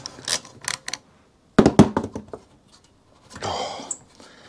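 A bolt being unscrewed on a vintage 1930s Ransomes Atlas Mk1 lawnmower, heard as metallic ratcheting clicks and knocks in short separate clusters with quiet gaps between them, close by.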